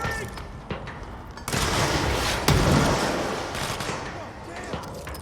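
Gunfire in the Control video game, with a dense fusillade of rapid shots and booms rising midway, loud and close, mixed with shouting voices.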